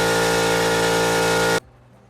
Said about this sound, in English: So here I'm trying to clean up some of the carbon deposits on the exhaust valves and the port coming out here.